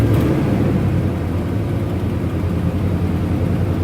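A 1989 Avanti convertible engine runs steadily at idle while warming up, a loud, close, continuous low rumble with no talk over it.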